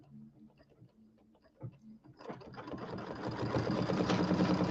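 A sewing machine stitching across the bottom of an embroidered settee pillow starts up partway through and runs in a steady, loud, close mechanical whir, after a stretch of quieter handling sounds.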